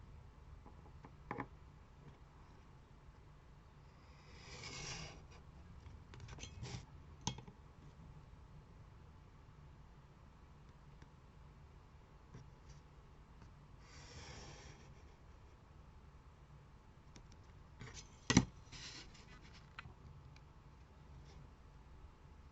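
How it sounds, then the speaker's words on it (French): A craft knife cutting the inside of a square in card, with a few faint scratchy drawn strokes spread through a quiet stretch, broken by small clicks and a sharp tap, close and without talk. "on va découper au cutter l'intérieur en fait de notre carré"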